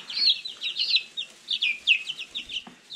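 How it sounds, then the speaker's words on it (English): Spring chicks peep and cluck in quick high-pitched bursts, close and fairly loud, with no talking. "Three spring chicks."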